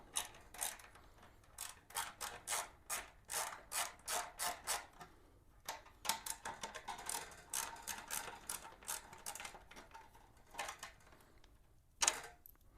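A ratchet wrench clicks in rapid repeated bursts while loosening bolts on the rear wheel cover of a 2002 Honda GL1800 Goldwing motorcycle, close and crisp with short pauses and no talking.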